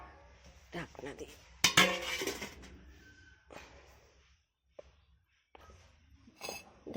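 A lid goes onto a cooking pot of marinating cauliflower and chicken, a sharp metallic clink and clatter of pot and lid near the mic, with a few softer knocks after it and a voice talking around it.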